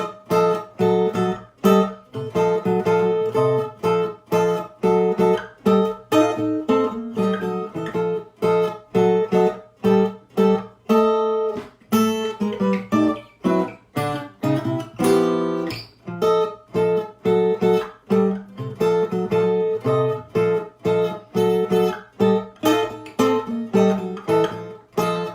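Solo guitar chord melody with clear plucked chords and single-note lines in a lively, syncopated rhythm, close and steady with no talking.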